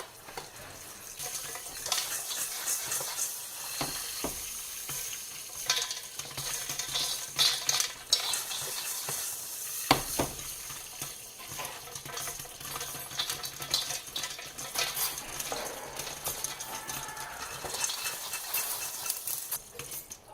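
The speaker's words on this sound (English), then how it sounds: "Just shake the pot every now and then. Keep shifting the kernels around." Continuous rattling and clattering of hard popcorn kernels rolling inside a shaken metal pot, steady throughout with occasional sharper knocks.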